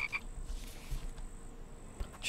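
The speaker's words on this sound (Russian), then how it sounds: "Лягушка, иди сюда." A frog in the survival game The Infected gives a few scattered croaks over a quiet, low background hum, fairly faint and with no voices.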